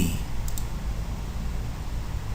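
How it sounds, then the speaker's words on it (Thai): Two quick, faint left-clicks of a computer mouse sound in rapid succession over a steady low hum. "เลือก ที่ Open โดยการคลิกซ้าย"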